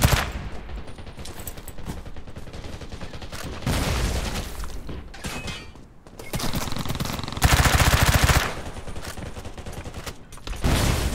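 Heavy gunfire in the multiplayer shooter Undawn during a three-versus-eight PvP blockade match: loud, close bursts of automatic fire and single shots in long, dense stretches with short lulls between them.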